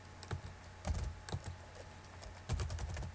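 Keys clack on a computer keyboard as a command is typed to start the Nessus vulnerability scanner server on Backtrack Linux, sounding as irregular close taps in short bursts over steady background noise.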